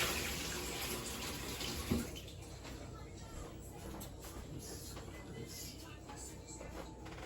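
Tap water runs steadily into a silver baking pan as it is rinsed out, a continuous broadband splashing hiss with a brief clunk near the start, close and fairly even throughout.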